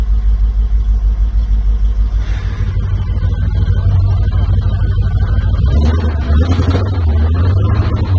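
A 1986 Porsche 928S engine cranks slowly, then catches and settles into a loud, deep idle rumble close by.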